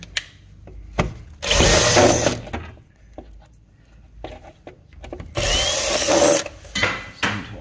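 Screws are driven out of a door panel with a power drill or driver, in two long loud whirring bursts with short buzzes and clicks between them, heard up close.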